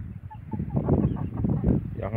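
Backyard chickens cluck close by, low, busy murmuring calls blending together in a continuous run, fairly loud.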